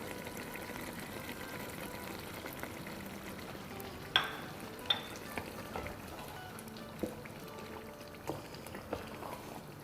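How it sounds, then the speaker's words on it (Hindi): Boneless chicken karahi being stir-fried on a high flame gives a steady, fairly quiet sizzle, with a few sharp spoon knocks against the pan scattered through it. "बस अब इसको हाई फ्लेम में इसकी अच्छी सी भुनाई करेंगे, जब तक कि ऑयल सरफेस पर ना आ जाए"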